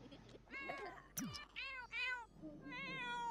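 A cat in The Sims 4 game meows repeatedly, several drawn-out, close mews in a row with brief gaps, alone without talk.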